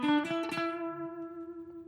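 Ibanez Tim Henson signature electric guitar played through a Fishman Fluence active neck pickup on voice 1: a few plucked notes settle into one sustained, ringing tone that slowly fades, with no talking.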